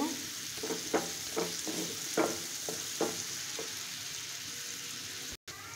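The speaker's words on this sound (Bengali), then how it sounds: "এখন আমি এটা ততক্ষণ ভাজতে থাকবো যতক্ষণ না একটু থেকে সুঘ্রাণটা আসে" Spices fry in a pan for a beef and potato curry with banana flower, a soft sizzle broken by a string of spoon scrapes and taps, then a quieter hiss with a brief dropout near the end.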